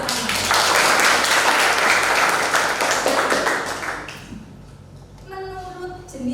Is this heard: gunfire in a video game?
no